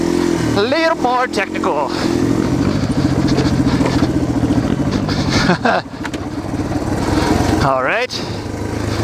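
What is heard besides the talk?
Yamaha TTR dirt bike riding up a rocky enduro hill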